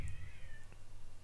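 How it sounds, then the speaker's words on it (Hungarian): A cat meows outdoors in a single faint, drawn-out cry, heard from a distance over a low steady hum. "cicanyávogást hallok kintről"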